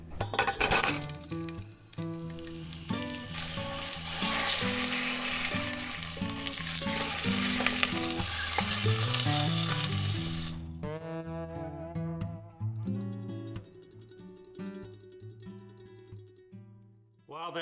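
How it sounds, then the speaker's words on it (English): Ground meat browns in a pot with a loud, sustained sizzle and occasional clinks as it is stirred, while music plays throughout and takes over after the frying noise drops away. "So the first thing we're going to do is get this meat browned off inside of this pot"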